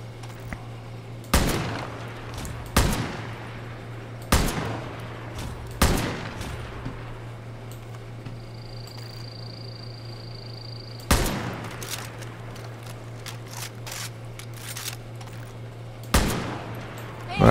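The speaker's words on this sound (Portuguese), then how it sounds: "Você atirou bem." Gunfire in Far Cry New Dawn, with about eight loud, sharp shots spaced a second or more apart over a steady low engine-like hum, plus a brief high tone in the middle.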